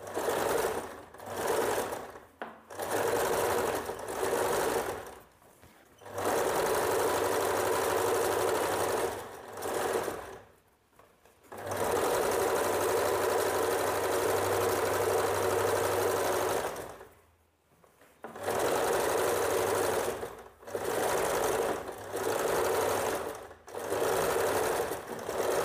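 An electric sewing machine stitches a blouse neck band in steady whirring runs of several seconds each, separated by short pauses, close and fairly loud.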